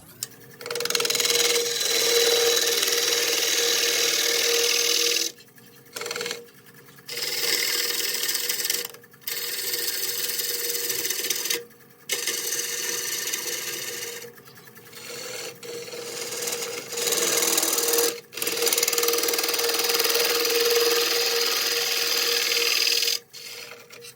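Rough, out-of-round ambrosia maple bowl blank spinning on a wood lathe under a cutting tool, a loud continuous rasping scrape broken by several short pauses where the tool lifts off.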